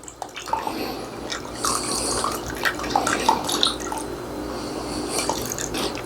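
Warm water carrying melted beeswax drains through a filter, trickling and dripping with small splashes and gurgles in a close, moderately quiet, continuous flow.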